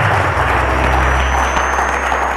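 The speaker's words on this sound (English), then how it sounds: "a round of applause for Tomiwa." A studio audience at the Cowbellpedia quiz show breaks into steady, dense applause that stays loud and continuous throughout, with no voices over it.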